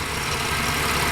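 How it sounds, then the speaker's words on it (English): A rebuilt Ford AU Falcon engine idles in a steady, smooth, low hum, close and even throughout with no voices. "you just listen to that engine, like it's just so quiet and so smooth"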